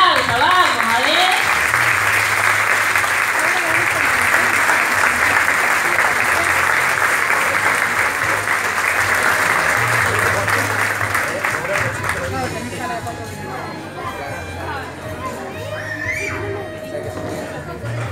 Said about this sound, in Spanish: Un aplauso, vamos, a ver.